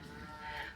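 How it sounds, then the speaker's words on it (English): A single drawn-out moo from cows grazing beside a wooded trail lined with wild blackberries, steady and fairly faint as if from some distance, with no talking. "And also cutie pie cows"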